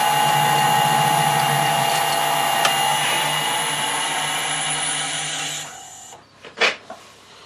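A lathe cutting tool screw-cuts a coarse thread inside a small bore of a wood lathe chuck adapter, giving a steady, loud machine hum and whir that runs down and stops, followed by a couple of brief knocks.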